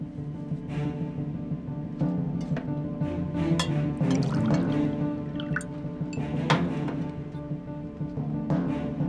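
Water is poured out for drinking, a soft trickling and dripping that runs steadily beneath a sustained musical backing.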